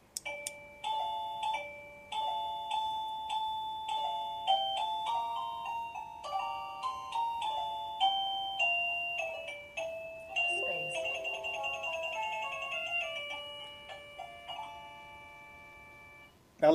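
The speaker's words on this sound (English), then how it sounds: "So if somebody is ringing the bell outside" A Roybens musical doorbell chime plays a long, clear electronic melody of bell-like tones, ringing steadily for several seconds at moderate volume in a quiet room.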